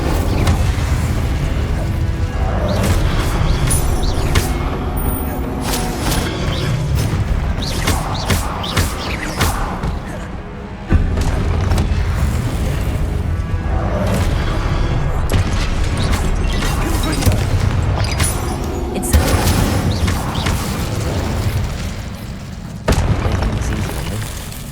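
Incendio fire spells blast repeatedly in Hogwarts Legacy, a steady barrage of loud booming bursts and roaring flame that runs almost without pause, with brief dips between volleys.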